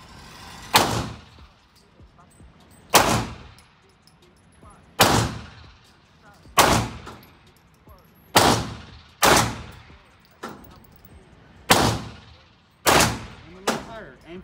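Nine sharp Zigana Model F pistol shots fired one at a time at fairly even intervals of about one to two seconds, each loud crack followed by a short decay.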